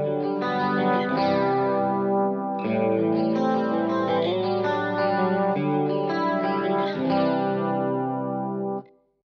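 Electric guitar through a Kemper Profiler's double tracker effect, thick doubled chords strummed in a few sustained bursts with a chorus-like shimmer, played alone and cut off at the end.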